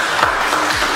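Brief burst of applause, a crowd clapping in a dense patter for about a second.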